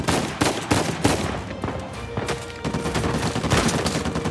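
Uncharted 4 gameplay gunfire, loud rapid bursts of shots fired close in a sustained exchange, with dense overlapping cracks and no speech.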